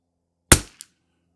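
A single sharp report from an old Savage Mark II .22 rifle firing Eley match ammunition at a range, loud and close with a quick decay, followed by a faint small click.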